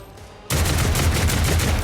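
Gunfire in Warhammer 40000: Rogue Trader starts abruptly after a quiet moment and continues as a loud, steady, rapid volley.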